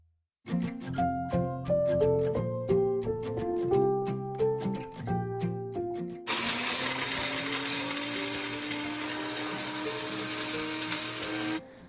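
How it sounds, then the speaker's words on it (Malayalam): A mixer grinder's small jar grinds spices for garam masala, whirring in short pulsed bursts with a ringing motor tone, then running continuously with a rising whine and gritty rattle. "മിക്സിയുടെ ചെറിയ ജാറിലിട്ട് വേണം നമ്മളിത് പൊടിച്ചെടുക്കാനായിട്ട്."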